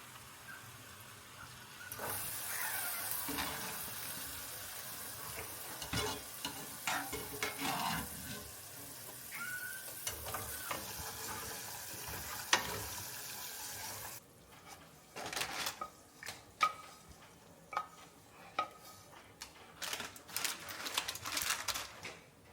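Walnuts fry in a wok of hot oil for walnut shrimp, giving a continuous sizzle with scattered stirring clinks and scrapes, louder at first and then turning to intermittent clatter.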